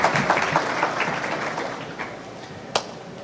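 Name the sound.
audience applause welcoming panelists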